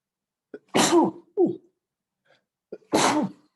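Two sharp sneezes, close and loud, the first followed by a short gasp or sniff, with a brief pause between them.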